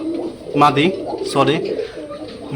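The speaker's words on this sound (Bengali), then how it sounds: "এখানে এক জোড়া আছে, নটটা হচ্ছে টেডি নর, আর মাদিটা হচ্ছে নীলা সারানপুরি নর" A pair of pigeons, a Teddy male and a Nila Saranpuri female, gives two soft, throaty coos close by, with a steady background murmur and faint voices around them.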